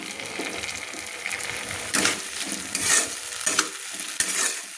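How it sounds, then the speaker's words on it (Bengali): Ginger, cumin and dried chilli paste sautéing in hot oil for a fish curry with yam, a steady sizzle and fry with stirring scrapes and a few louder bursts of spattering, close and without talk. "তেলের মধ্যে মশলাগুলো আমি কষিয়ে নিচ্ছি"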